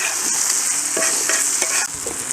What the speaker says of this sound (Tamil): தக்காளிலாம் கொஞ்சம் வதங்க.